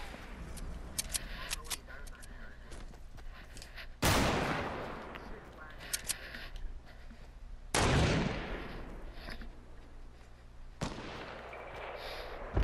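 Gunfire in the Fortnite video game, season 7: several loud, sharp shot bursts at irregular intervals cut through a steady background of game sounds, with other quieter crackling shots in between.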